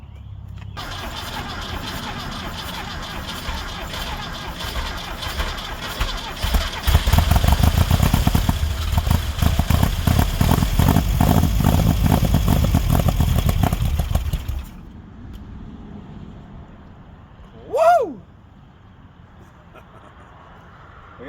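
An old Volkswagen Baja Bug's previously stuck engine cranks and catches, then runs rough and loud with heavy revving for several seconds before cutting off; a short rising whine follows afterward.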